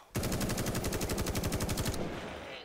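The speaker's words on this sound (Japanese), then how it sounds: "これマジでこの銃の音も結構リアルなのと、銃から出てる炎、火薬でね、発砲するからね" Automatic gunfire in the zombie survival game The Day Before: a dense, rapid burst of shots, loud and close, lasting about two seconds before cutting off into a brief fading tail, with no voices.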